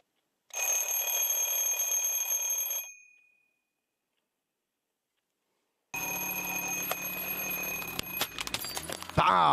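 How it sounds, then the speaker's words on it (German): An alarm clock rings in two loud, steady bursts, the first about two seconds long, then a silent gap before it starts ringing again, with clattering and knocks piling up toward the end. "So, was haben wir denn hier? Ein Wecker."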